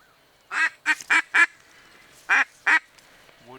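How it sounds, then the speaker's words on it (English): Wood duck calling among goose decoys on an early-season goose hunt in Pennsylvania, a series of six sharp squealing calls in two bursts, fairly close, over a quiet background. "That wood duck's in the decoys."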